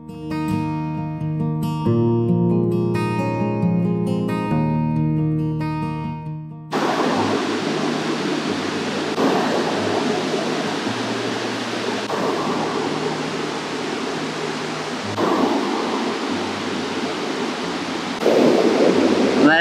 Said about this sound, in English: Look at the waterfalls, it's so big. Such a big rapid waterfall.